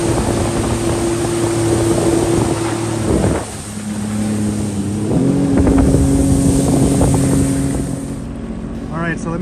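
A 2023 Sea-Doo Fish Pro Trophy watercraft runs on the water at idle, its engine a loud steady hum that drops briefly then resumes at a slightly different pitch, with wind buffeting the microphone and water splashing.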